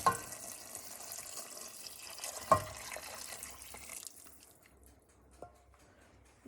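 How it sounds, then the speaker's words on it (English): Beef stock poured into a soup pot of French onion soup, a liquid trickling and splashing for about four seconds with a knock midway, then fading to quiet with a faint later clink. "now we're going to move on to adding the beef stock to the pot"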